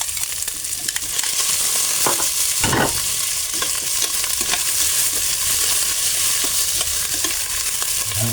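Meat for laing is stirred into a hot frying pan, giving a steady sizzle and frying hiss throughout, broken by repeated scrapes and clacks of a utensil against the pan, close and fairly loud, with no voices.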